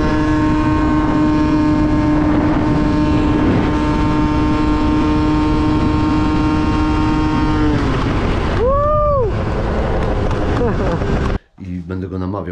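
A small scooter engine drones with a steady, buzzy hum while people talk over it; near the end the sound cuts out abruptly, then rough noise returns.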